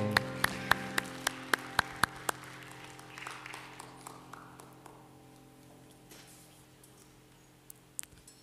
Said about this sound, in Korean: 우리 하나님께 감사 영광의 박수 올려드리겠습니다.